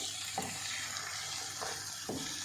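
Coconut, cashews and poppy seeds frying in a pan, a steady soft sizzle with a few light scraping stirs, close and quiet, no voices.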